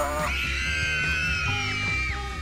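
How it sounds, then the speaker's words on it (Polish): Children in the video game Dayshift at Freddy's 2 let out loud, sustained high screams and yells that overlap in a chaotic, shrill chorus. "One dalej krzyczą!"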